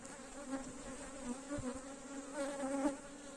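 Honeybees buzz at their hive as light smoke calms them, a steady, droning hum close by with a few soft knocks mixed in.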